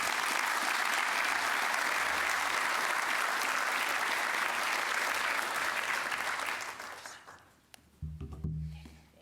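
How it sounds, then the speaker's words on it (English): A big round of audience applause for journalist Kashmir Hill at the Identity 2019 conference, loud and steady for about six seconds before fading into scattered claps and a brief bump or microphone handling noise. "can we please do a big, massive round of applause for Kashmir Hill."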